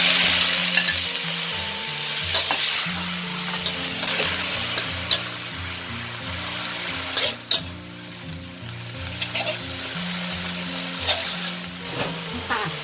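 Water spinach stir-fried in very hot oil for a Thai pork and morning glory dish, producing a loud, continuous close sizzle with repeated spatula scrapes and clanks against the pan, and no voices.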